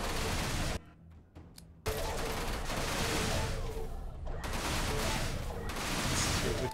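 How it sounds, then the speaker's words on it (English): Enemy fire pours in during a space-combat stretch of the video game Everspace, with dense, continuous bursts of shooting that stop for about a second and then resume at full loudness. "stop shooting at me"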